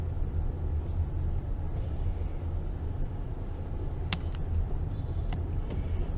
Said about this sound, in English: He calls his car the Beast. It's like a 91 Jeep or something.